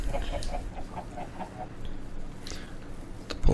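Minecraft chickens cluck in a quick series of short, soft blips through the first half, followed by scattered blocky game sounds and a louder thump at the end, with no talking.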